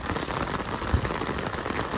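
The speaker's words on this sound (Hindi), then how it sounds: "बाकी यार ये बारिश का सीन देखो यार" Heavy rain pouring steadily onto surfaces and an umbrella during a rainy day in Multan, a dense, even patter close by with no voices.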